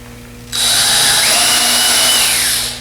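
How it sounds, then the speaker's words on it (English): A drill bit boring a hole in an angle piece from a canoe/kayak build kit: a short, loud, high whirring burst that starts abruptly and runs steadily for about two seconds before tapering off. "drill a hole in it"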